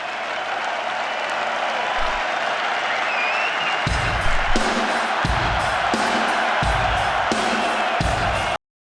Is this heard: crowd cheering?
yes